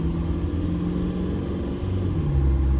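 A Jeep TJ Wrangler with a swapped-in TDI diesel engine drives along with a steady, loud low rumble, and the engine note rises slightly toward the end, heard from inside the vehicle with no talking.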